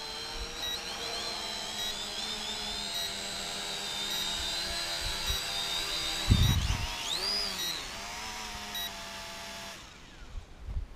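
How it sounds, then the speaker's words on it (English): A small Toysky S162 brushed drone hovering and flying with a steady high-pitched motor whine whose pitch swoops as it manoeuvres, briefly joined by a thump and rustle before the whine cuts out near the end. "another competent lower end of the market brush drone"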